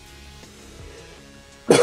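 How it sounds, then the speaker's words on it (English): A single loud, harsh cough bursts out near the end, close to the microphone, after a stretch of quiet room noise. "I'm really sorry about the coughing."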